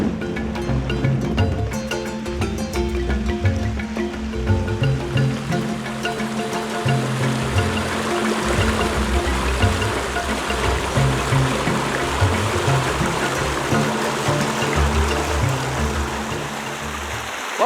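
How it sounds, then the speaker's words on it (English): A woodland creek running high with snowmelt, giving a steady, close, full rushing and gurgling flow that carries on without a break. "my little hike through the woods is taking me down to the creek or stream. It's flowing pretty nicely because of all the snow we had"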